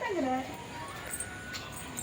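A dog whimpers briefly in a home, a thin rising-and-falling whine near the start, while people talk over it.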